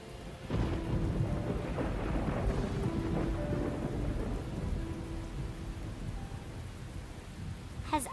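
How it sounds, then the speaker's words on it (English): Rain and thunder in the video game AI: The Somnium Files: a dense, steady downpour with a deep rolling thunder rumble that swells early on and then lingers under the continuous hiss of rain. "Did the rain stop?"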